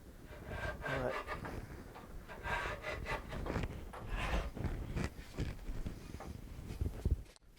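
Repeated rasping strokes of a hand plane shaving a wooden steel-string guitar part, steady rhythm at close range, with faint breathing between passes.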